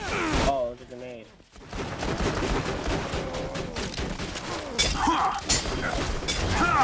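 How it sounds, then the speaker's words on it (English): In Borderlands 2, a grenade goes off amid dense gunfire, with a sharp blast and crashing debris over continuous shooting and game voices. "Oh, it's a grenade."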